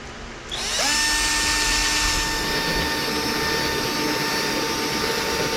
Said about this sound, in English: This Forstner bit is fairly old, so it's not brand new sharp. It would probably cut better if it was,